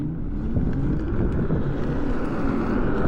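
A 72V dual-motor electric bike pulls away hard in sport mode, a steady low rushing drone of motor and wind buffeting the microphone throughout at constant loudness.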